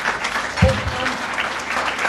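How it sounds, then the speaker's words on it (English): An audience at an AI fireside event claps in a steady, moderately loud round of applause, with a brief voice cutting through near the start. "Now, can you just give a very big round of applause?"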